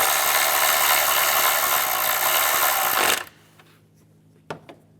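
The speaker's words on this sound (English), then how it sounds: "Tighten the bolt down here." A power tool runs loudly for about three seconds, tightening a bolt near the air filter box on a 2010-2016 Cadillac SRX engine, then stops abruptly, followed by quiet and a couple of light metallic clicks.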